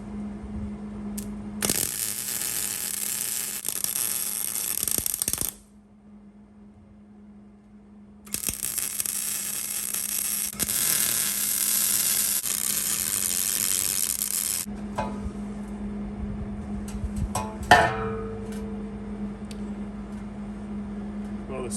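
Two long stretches of steady, crackling buzz from welding two halves of a 1996 Ford F350 7.3 Powerstroke exhaust pipe together, separated by a short quiet pause, followed by lighter clanks and scraping, with a constant hum underneath.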